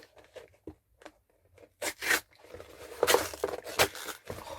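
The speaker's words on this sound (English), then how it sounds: "Penguin have really wrapped this well" Crinkly tearing and crunching of plastic or paper wrapping being pulled off a posted book package, close and intermittent in short bursts that grow busier toward the end.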